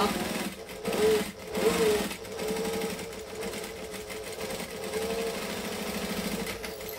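A sewing machine top stitching a fabric clutch 1/8 inch from the edge, a close, loud, rapid mechanical chatter that runs in short bursts with brief pauses, then settles into steadier stitching.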